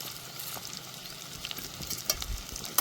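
Cashews frying with onions in a pan crackle and sizzle steadily while being stirred, with scraping and clattering strokes that grow busier toward the end.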